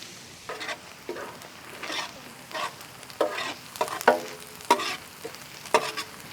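Onions with coriander seeds, cumin and bay leaf fry in a pan for a dhaba-style mutton curry, with repeated stirring strokes over a crackling sizzle, close and fairly loud.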